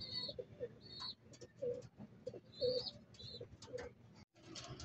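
A pet bird pecking at oregano and feed gives repeated soft cooing calls and chirps at close range, in short phrases with small ticking pecks between them, and no one speaks.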